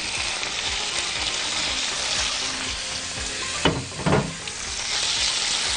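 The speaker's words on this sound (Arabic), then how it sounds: "ونشوح الفراخ بتاعتنا" Chicken pieces sauté in a pan of golden-browned garlic: a steady, close sizzle throughout, with two brief louder bursts of crackle and stirring near the end as the pieces shift in the hot oil.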